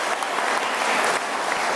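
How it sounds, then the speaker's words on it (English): Audience applause fills a university graduation ceremony hall, steady dense clapping from a large crowd throughout, loud and close with no pauses. "Can we please give them a round of applause, please?"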